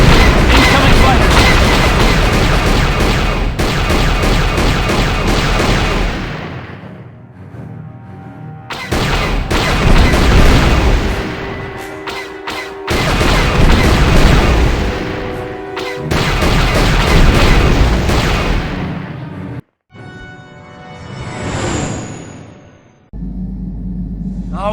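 Gun turret fire at enemy fighters in Star Wars: Knights of the Old Republic: loud, sustained blasting and deep rumbling booms in long bursts, broken by short pauses.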